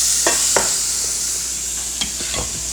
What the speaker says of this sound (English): I'm going to start cooking off my burgers. I did put just a little bit of oil in the pan.